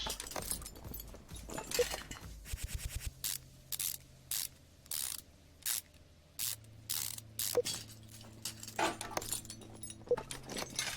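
Ratchet wrench in Car Mechanic Simulator 2015 removing the many flywheel bolts: repeated short bursts of rapid clicking separated by brief pauses, close and clear over a low steady background hum.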